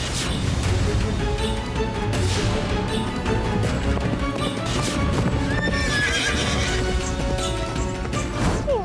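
Horse hooves clip-clop steadily alongside whinnies, heard loud and continuous within a dense mix of music and dramatic sound effects from a TV serial.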